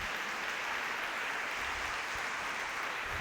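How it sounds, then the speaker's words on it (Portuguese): A church congregation applauds, a dense, even wash of clapping from many hands that holds steady without pause, no voices over it. "Você pode dar um aplauso ao Senhor bem forte?"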